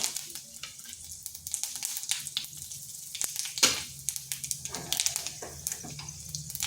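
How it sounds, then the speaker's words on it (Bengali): Dry red chili, bay leaf, whole cumin and five-spice tempering in hot oil for a papaya dish, giving a steady close sizzle with scattered sharp crackles and pops throughout. "ওই তেলের মধ্যে ফোড়নে দিচ্ছি একটা শুকনো লঙ্কা, তেজপাতা, গোটা জিরা, আর দিচ্ছি সামান্য 5 ফোড়ন।"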